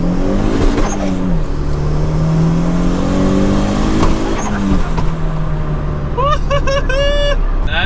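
Turbocharged Honda Civic fitted with a turbo intake drag-racing a Mazda Miata: loud engine pulls sweep up through several gears with shift breaks, whooshing turbo intake noise, and whistling turbo spool near the end, heard from close inside the car.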